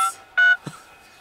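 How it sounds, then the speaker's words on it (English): A phone dials on its own inside a haunted hospital at night, producing a few separate DTMF tones: a short beep, a longer clear tone, then a brief blip, with no talking. "My phone's dialing."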